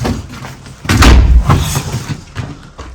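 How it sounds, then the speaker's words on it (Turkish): A balcony door slams shut with a loud, heavy thud and a brief rattle, close by, followed by quieter room noise. "Balkon kapısı da kapandı."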